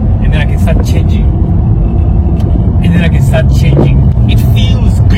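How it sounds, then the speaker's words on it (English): Straight-six engine of a manual car accelerating, a steady loud rumble heard from inside the cabin with a person talking over it. "The sound of the straight 6, I just can't get enough of it."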